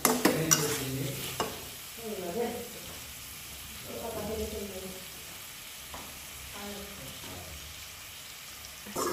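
Small river baim fish with quartered tomato cooking in a pan, a soft steady sizzle with a few scraping stirs and clinks near the start, then low bubbling frying.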